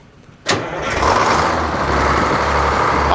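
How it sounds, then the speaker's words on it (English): A sawmill engine starts abruptly after a brief quiet moment, then runs loud and steady nearby with no talking. "So I'm going to start this engine up"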